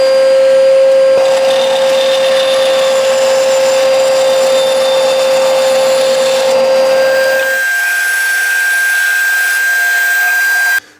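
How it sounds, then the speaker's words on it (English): A dust extractor roars loudly in a woodworking shop, a steady whine with a droning tone, shifting pitch midway before spinning down at the end. "We're going to pop the extractor on."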